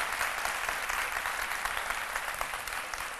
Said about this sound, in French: on applaudit très fort pour notre docteur Philo.